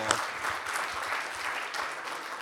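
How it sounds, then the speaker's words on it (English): A crowd claps for the organizers of a church panel on mass incarceration, a dense burst of applause filling the room for a couple of seconds. "So they deserve a round of applause, please,"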